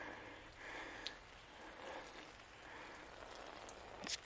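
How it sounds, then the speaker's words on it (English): Rain falling in the woods during a sun shower, a faint steady patter on leaves and ground with a few louder drips, heard alone in quiet surroundings. "It's pouring down."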